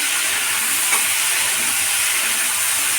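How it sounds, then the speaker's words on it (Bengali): Chickpeas and potato pieces frying in a pan, a continuous soft sizzle and hiss with a faint stir or clink early on, no talking. "ভালো করে এটা ভেজে নিতে হবে"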